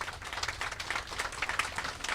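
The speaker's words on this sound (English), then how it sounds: "we all owe them a huge round of applause" Applause from the crowd at a comfort women memorial unveiling ceremony, a steady patter of clapping for about two seconds with no talk over it.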